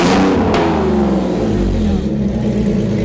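A BMW Z4 fitted with a straight exhaust revs loudly up close, its engine rising and falling in a sustained, throaty roar.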